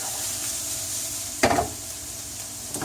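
Onions sizzle in a hot pan for beef Wellington, a steady close frying hiss with a sharp burst of stirring scrape partway through and another near the end.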